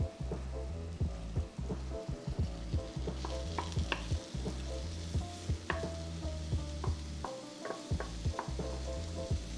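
Steak frying in a pan alongside onions gives a continuous sizzle, broken by regular soft knocks and clatters of cooking movement.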